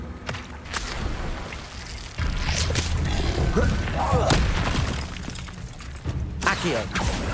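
Confringo blasting spells in the video game Hogwarts Legacy crack out as several sharp bursts over a steady bed of busy game noise, with louder hits near the middle and the end.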